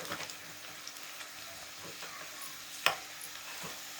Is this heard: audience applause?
no